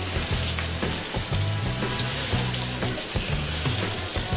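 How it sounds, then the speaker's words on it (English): Catfish frying in a little butter in a pan for blackened catfish, a loud, dense, continuous sizzle and crackle close up, with faint utensil clatter underneath and no talking. "I'm going to turn the heat up and let those fish finish."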